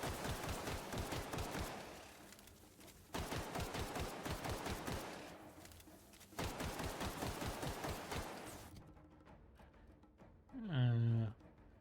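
Automatic gunfire in the video game The Outer Worlds: Spacer's Choice Edition, three long rattling bursts of rapid shots close together, followed by a brief voice at the end.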